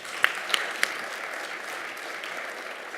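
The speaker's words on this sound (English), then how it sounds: "So let's give him a round of applause for that." Audience applause at a health product conference talk, a steady wash of clapping from a seated crowd with a few sharper claps standing out near the start, sustained for the whole stretch.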